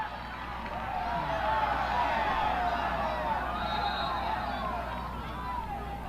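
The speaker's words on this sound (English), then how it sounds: "And it looks like the crowd is cheering." Soccer crowd at a Cal United Strikers versus Oakland Roots match, a steady broad roar of cheering and babble from the stands, continuous and fairly loud throughout.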